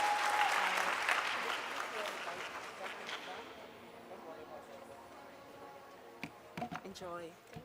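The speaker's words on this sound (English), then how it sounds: "Another applause for her," Audience applause for a speaker at a youth foundation gathering, loud dense clapping that gradually thins and fades, with a few scattered claps and voices near the end.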